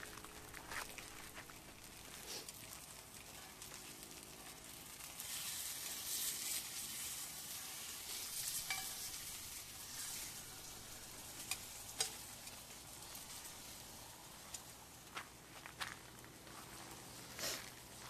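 Pork sizzling on an iron pan inside a rough campsite shelter, a steady crackling hiss that swells loudly midway, with occasional scraping and stirring clicks, close up and without talk.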